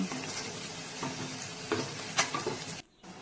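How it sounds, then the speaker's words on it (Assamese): Raisins and cashews fry briefly in a pan for vegetable pulao, giving a steady close sizzle with clinks and scrapes from stirring, then a short pause near the end. "ইয়াত মই কিচমিচ আৰু কাজু বাদাম দি অলপ সময় ভাজি ল'ম।"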